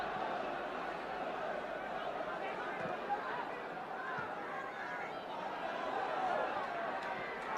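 A football crowd at White Hart Lane gives off a subdued, stunned murmur, with broad babble and scattered voices holding at a steady moderate level throughout.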